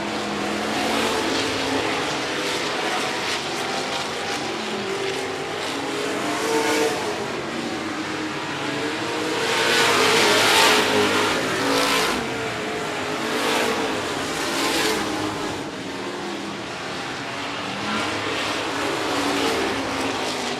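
Race cars run in a regular race program at 105 Speedway, a steady loud roar of engines from a pack circling the track that swells and fades as they pass, with no talk over it.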